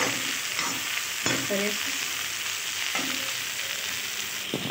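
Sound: stirring frying soybean and spring onion curry in a pan

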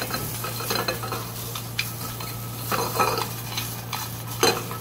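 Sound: stir-frying onions in butter with wooden spatula

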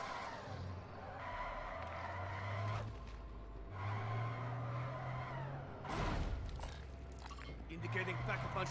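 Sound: driving a vehicle in Call of Duty MW3 Zombies video game

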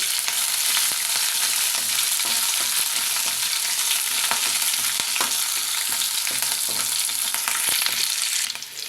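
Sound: curry leaves and green chili pieces frying in oil

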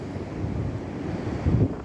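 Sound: stormy sea waves and wind at Odesa beach

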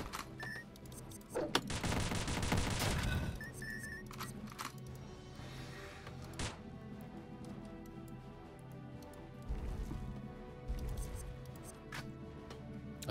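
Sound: rapid gunfire from a gun in the video game Dungreed

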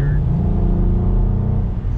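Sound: Cadillac CT4-V Blackwing V6 engine and exhaust

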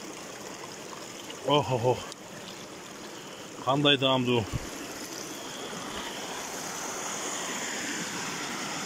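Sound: spring water gushing out of the ground

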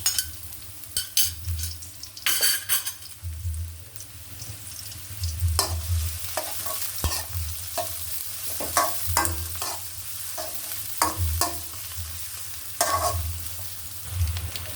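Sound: onion, garlic and green chili frying with stirring

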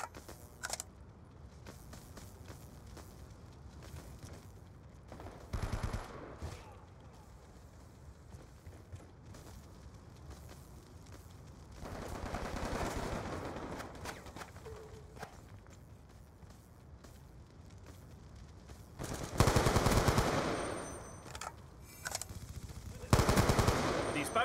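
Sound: gunfire in video game Call of Duty Black Ops II

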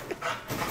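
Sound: dog

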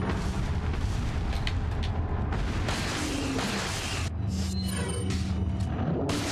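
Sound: magnum and shotgun shots in a video game

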